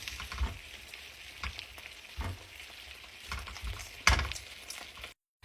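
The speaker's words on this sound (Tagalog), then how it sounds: "Ayan, iprito lang natin." An egg frying in a pan pushed alongside vegetables for pancit canton, a quiet soft sizzle punctuated by several sharp utensil scrapes and taps, close but low in level, ending abruptly in silence, with no speech.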